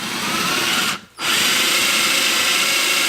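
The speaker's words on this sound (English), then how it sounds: "I'm going to drill a 5/16 inch hole." A power drill boring a 5/16 inch hole into bubinga wood for a bowl whines loudly and steadily, pauses briefly, then spins back up and keeps running.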